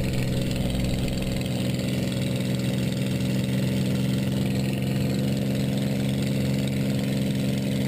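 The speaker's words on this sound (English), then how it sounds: "pushing the throttle up to 2700 RPM, which would be my go-around" A P-51C Mustang's piston engine runs at 2700 RPM in a flight simulator game, giving a steady, loud, droning hum with a constant low rumble. No talking is heard.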